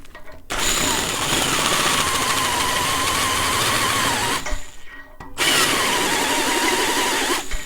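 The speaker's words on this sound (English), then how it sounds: "I'm not using the full speed of the drill because I don't need to. I'm just using enough speed for it to cut." A drill run at reduced speed cuts through a piloted hole in engine work, a loud steady grinding whir lasting several seconds, briefly stopping, then resuming just as strongly.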